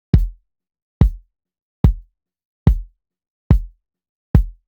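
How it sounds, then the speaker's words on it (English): Six kick drum hits picked up at the drum head with an SE Electronics VR2 microphone, deep booming thumps that ring briefly, evenly spaced and heard alone with silence between them. "this is what the SE Electronics VR2 sounds like on the kick head"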